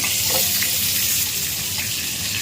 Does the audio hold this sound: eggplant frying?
yes